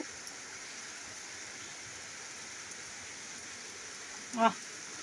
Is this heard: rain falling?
yes